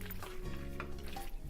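A spoon briefly stirs peas into a pan of vegan mac n cheese, with a soft sizzle and a quiet, close scrape.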